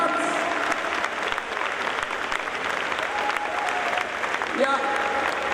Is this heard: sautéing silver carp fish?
no